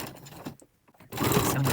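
A domestic sewing machine back-tacks the start of a face mask seam, whirring briefly, pausing for a moment, then running loud and steady at close range.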